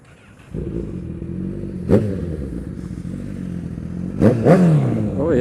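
Kawasaki Ninja ZX10R motorcycle being ridden, engine humming steadily up close with brief sharp rev bursts as the rider accelerates and shifts, plus wind and mechanical clatter.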